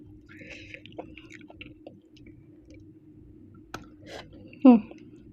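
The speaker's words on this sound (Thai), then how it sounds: "เวลาเคี้ยวแล้วแบบ น้ำเห็ดข้างในอ่ะมันแตกในปากอ่ะ" Puffball mushrooms (het phao) in a spicy Thai mushroom soup are chewed close to the mouth, giving soft wet clicks and squishes, with one sharper juicy burst near the end.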